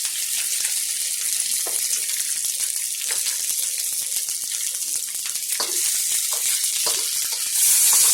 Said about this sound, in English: we got some scallions, some shallots, and some ginger, y'all, going up in the pan